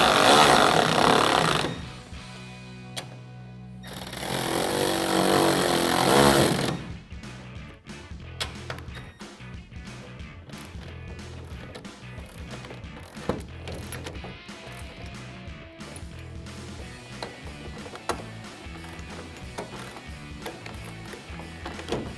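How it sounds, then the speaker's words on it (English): Loud whirring bursts at the start, then dense ratcheting clicks as a 2004–2008 Ford F-150 LED tail light is tightened down with an 8mm socket, close and continuous. "tighten it down with our 8mm socket"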